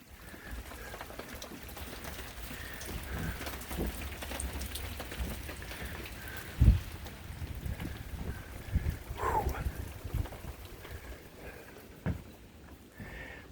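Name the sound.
wet wind blowing in ahead of a cold front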